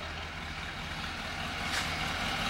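A 1955 Packard 400 two-door hardtop's V8 idles steadily at close range, a continuous low rumble with a faint rise in level near the end and no talk over it.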